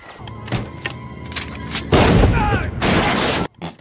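Gunfire in The Punisher film, bursts of loud shots and crashing impacts mixed with music and other effects, ending in an abrupt cutoff.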